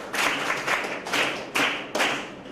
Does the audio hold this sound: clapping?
yes